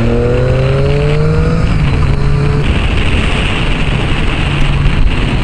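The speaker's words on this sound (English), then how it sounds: "Oh, that popping is so beautiful." A motorcycle exhaust crackles and pops as the engine revs and decelerates, loud and close with wind buffeting the microphone.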